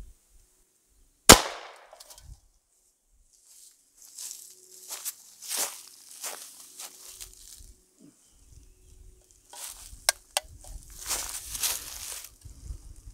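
An Umarex HDR68 gas-powered pistol fires a rubber ball with a single sharp, loud crack, followed by quiet handling noises, rustling and light clicks.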